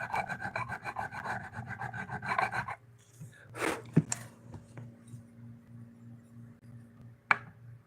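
Steady rasping strokes of a file dressing the frets on a new 2025 Ibanez GRGR221PA-ABQ electric guitar, close and continuous, then a pause followed by a few sharp taps and scrapes.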